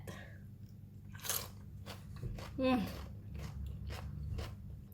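Crisp, close crunching as raw cucumber dipped in Thai sambal belacan is bitten and chewed, with a loud snap near the middle followed by softer chewing over a steady background hum.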